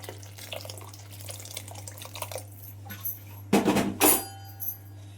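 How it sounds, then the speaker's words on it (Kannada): Hot water from a kettle is poured into semolina while cooking tomato upma, a faint splashing and trickling in a quiet kitchen with a steady low hum and a few louder clinking splashes near the end. "ಆ ನೀರನ್ನು ಇವಾಗ ಸೇರಿಸ್ತಾ ಇದ್ದೀನಿ"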